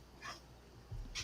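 A puppy gives two brief, faint high whimpers, spaced about a second apart, with a soft low rustle between them in a quiet room.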